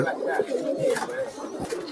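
Deobandi and Giribaj breeding pigeons coo softly and close by in a loft, a low, wavering murmur of repeated coos over faint background noise.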